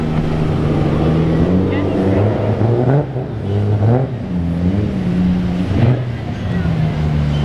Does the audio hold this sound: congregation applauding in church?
no